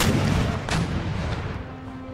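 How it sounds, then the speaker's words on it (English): Artillery fire from fortress walls during a siege in Empire: Total War, a dense, continuous rumbling barrage of booms and gunfire with one stronger blast standing out near the middle. "These guys might take a bit of fire from the walls."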